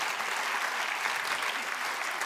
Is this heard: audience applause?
yes